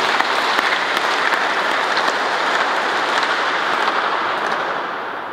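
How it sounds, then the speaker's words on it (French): Dense, sustained applause from a church congregation at Sunday Mass fills the space evenly, loud and close, fading slightly at the end. "acclamons fort notre Seigneur Jésus"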